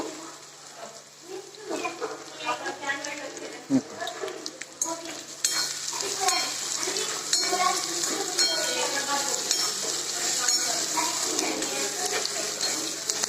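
Sliced onion fries and sizzles in a hot pan while a spoon stirs and scrapes through it for a potato curry, a steady crackle with intermittent clinks and scraping, close and fairly loud.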